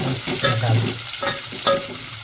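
Chopped onions frying in a pan for veg biryani, stirred with a spoon, making a continuous close sizzle with short scraping strokes and occasional clinks.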